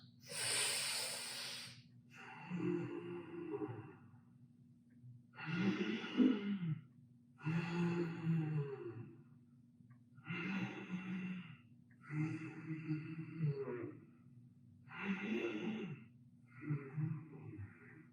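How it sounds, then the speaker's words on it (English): Slow, deep yoga breaths, mostly long audible exhales through the nose and mouth, come close and clear in a steady rhythm of about seven breaths with quiet pauses between. "Exhale, pull the abdominals into your chest cavity. Big breaths. Work the lungs."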